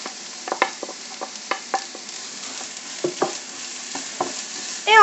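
Carrots added to onions caramelizing in a frying pan, a soft steady sizzle under repeated clinks and scrapes of stirring, close by with no talking.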